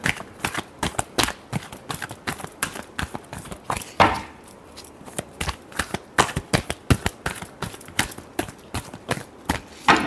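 Rapid, crisp riffling of tarot cards being shuffled close up, bursts of sharp flicking clicks repeating in quick irregular runs with a brief pause midway, no voices heard.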